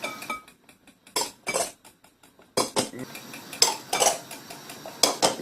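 A utensil knocks and scrapes rhythmically against a mixing bowl as self-raising flour is worked by hand into Yorkshire pudding batter, quick clinking bursts separated by brief pauses.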